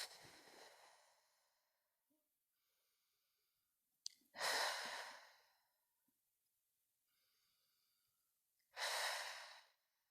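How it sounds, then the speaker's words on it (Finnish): Slow guided breathing, in through the nose and out through the mouth: three loud, close, breathy exhales spaced several seconds apart, with softer inhales between them. "hengittelet tässä semmoisen 3 kertaa nenän kautta sisään ja suun kautta"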